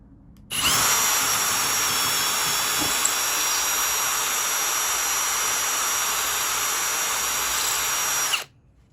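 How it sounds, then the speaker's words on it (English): Power drill boring a pilot hole in wood for a van roof deck platform, one continuous loud high whine of about eight seconds that starts and stops abruptly, with no talking. "make a pilot hole so that it's not quite so big"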